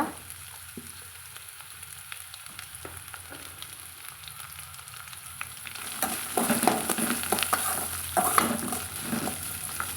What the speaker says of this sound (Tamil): இந்த முருங்காய் வெட்டி வச்சுக்கிறதையும் போட்டு நல்லா வறுத்துக்கலாங்க